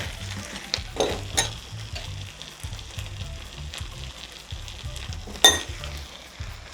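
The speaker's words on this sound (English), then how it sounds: "I just put this sesame seeds and put it in this pan" Sesame seeds sizzle in a covered pan with a soft continuous crackle and low rhythmic rumble, punctuated by a few sharp ticks and clinks from the lid.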